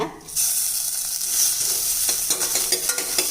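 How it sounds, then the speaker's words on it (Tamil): Crushed ginger and garlic drop into hot oil in a pan and sizzle steadily and loudly, with a few stirring scrapes toward the end, for a Tamil-style black urad dal porridge. "இப்போ இஞ்சி பூண்டு தட்டி வச்சது சேர்த்துடலாங்க."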